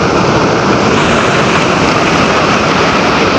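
Broad, steady rush of river water surging and washing up along a riverside at Naran, loud and continuous with wind-like noise throughout and no voices.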